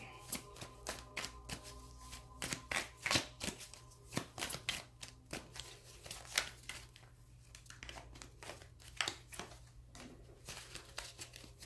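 A deck of tarot cards is shuffled up close, giving repeated crisp riffling and slapping bursts in an irregular rhythm with short pauses, alone and moderately quiet.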